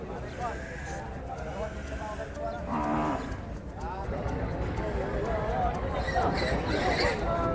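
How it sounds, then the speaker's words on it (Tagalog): Water buffalo at a livestock stockyard give low moos amid a busy crowd, with people talking and chattering throughout and animal calls rising near the middle and end. "Ayan, kalabaw yan."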